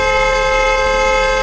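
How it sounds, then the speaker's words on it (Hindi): A vehicle horn blares in one loud continuous honk on a road beside a large truck, a steady tone that fills the whole short moment with nothing else heard. "उसने तुरंत अपने पति से हॉर्न बजाने को कहा"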